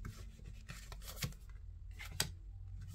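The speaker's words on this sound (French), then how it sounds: "On va regarder en étalant nos cartes" Tarot cards slide and rub across a table as they are spread out, soft close shuffling swishes with a couple of sharper flicks, faint and quiet.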